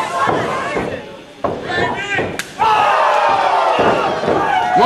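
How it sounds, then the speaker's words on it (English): At a wrestling match, a wrestler lands sharp chops on his opponent against the ropes. Loud slaps ring out amid a roaring, shouting crowd, with a commentator talking over the action. "Chopping him against the ropes."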